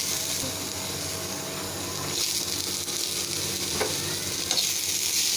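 Onions frying in a little oil with dried red chillies in the pan, a continuous close sizzle and crackle at even loudness with occasional small pops.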